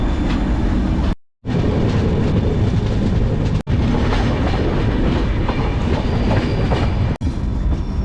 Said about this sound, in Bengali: খুর্দা রোড স্টেশনের 7 নম্বর প্ল্যাটফর্ম দিয়ে আমাদের ট্রেন খুব ধীরে স্টেশনটাকে স্কিপ করে যাচ্ছে।